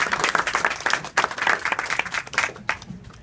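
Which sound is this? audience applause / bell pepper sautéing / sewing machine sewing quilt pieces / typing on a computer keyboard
audience applause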